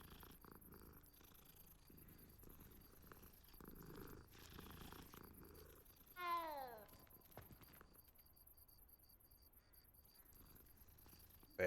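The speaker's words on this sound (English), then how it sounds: "And the cats." A cat purrs softly in the video game Hogwarts Legacy, a faint low rumble under quiet game music, with a brief meow-like chirp partway through.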